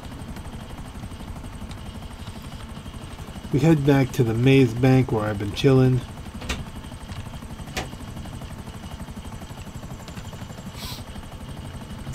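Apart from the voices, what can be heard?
aircraft flying in video game GTA 5 Online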